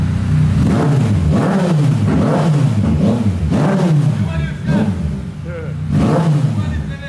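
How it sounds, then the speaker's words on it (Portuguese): A motorcycle engine, a Yamaha MT-09 or Honda CB1000, revs repeatedly, roaring up and dropping back in a steady series of throttle blips, loud and close. "Agora se acelerar aqui, ó."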